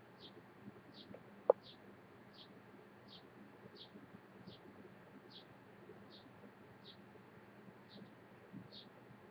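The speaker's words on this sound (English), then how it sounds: "You hear the birds out there." Short bird chirps repeat at a steady pace over faint wind and low background rumble outdoors, with chickens nearby and one sharp click early on.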